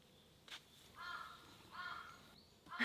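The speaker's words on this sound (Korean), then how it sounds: "까마귀다." Crow calling along a hiking trail on Hallasan mountain in Jeju, several hoarse caws at moderate distance outdoors, with faint footsteps and trail ambience between calls.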